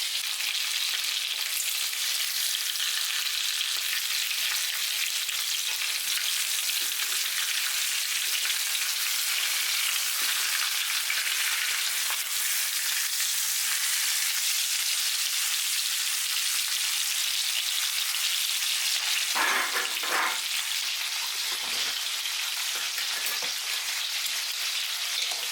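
Chicken for roasting fries in hot oil in a pan with a loud, continuous, hissing sizzle that runs unbroken for the whole stretch, with a few brief clatters near the end.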